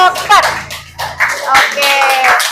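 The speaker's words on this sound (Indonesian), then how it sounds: "Tepuk tangan dulu untuk kelompok 4." A class of children claps for a student group, giving brief, lively applause mixed with children's chatter and voices.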